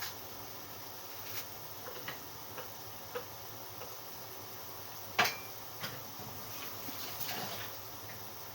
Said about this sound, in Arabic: انا بقطع الخضرة دلوقتي وهفرمها